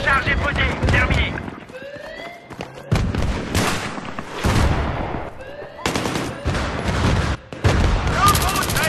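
Battlefield 3 P90 submachine gun fire in rapid bursts separated by short pauses, loud and close, with a voice speaking French between volleys.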